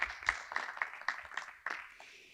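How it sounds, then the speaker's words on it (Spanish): Audience at an architecture networking event in Málaga clapping, a short, fairly faint round of applause with distinct claps that thins out after about two seconds. "un fuerte aplauso para Maurice Sainz"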